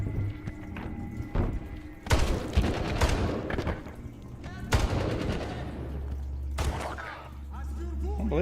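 AK rifle gunfire in the Medal of Honor video game, with bursts of shots and heavy thuds amid game effects, loud and busy with low rumbling in the background.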